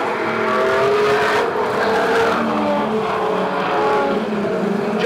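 Street stock race cars at Cullen Bullen Raceway roar past in a dense, continuous pack, engines loud and rising and falling as they jostle through a corner, with a hint of tyre scrub and no voices.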